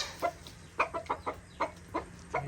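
White Kelso pullets on a farm give a run of short, close clucks in an irregular rhythm, about eight soft bursts with quiet gaps between them and no voices.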